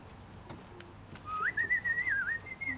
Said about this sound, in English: Thou just has to whistle to them.